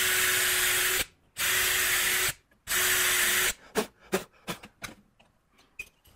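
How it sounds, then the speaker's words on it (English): A power drill bores pilot holes for number 6 screws in clamped wood, three sustained whirring bursts about a second each with short pauses, followed by scattered clicks and taps as the bit is withdrawn. "I'll drill a pilot hole for the number 6 screws I'll be using."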